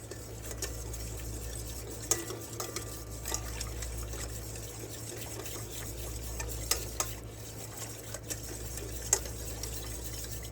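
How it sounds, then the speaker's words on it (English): A whisk stirs butter or ghee into a sauce in a pot for scalloped potatoes, giving soft, steady scraping with occasional light clicks against the pot over a low hum and faint sizzle. "I'm going to take my whisk and I'm going to blend this up really well, making sure that I melt any butter or ghee"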